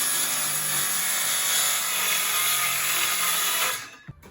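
A power saw cuts through a sheet of plywood during a work van setup, a loud continuous whining roar lasting nearly four seconds before winding down, followed by a small knock.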